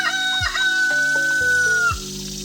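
Roosters and chickens roaming loose on a farm property near a mulberry tree, a loud nearby crow rising and falling over clucking hens, ending in quieter clucks.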